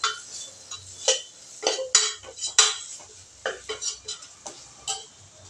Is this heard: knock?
no